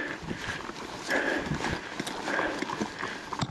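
A herd of goats runs down a steep slope in a lush high valley in Morocco, producing a continuous patter of many small hooves clattering on ground, fairly close and steady throughout.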